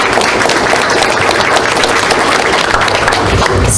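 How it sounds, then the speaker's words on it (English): Board meeting attendees applaud a student in a continuous, loud burst of many hands clapping close by, filling the room evenly for a few seconds. "stand up and let's clap for you"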